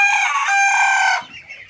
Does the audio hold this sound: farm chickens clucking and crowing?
yes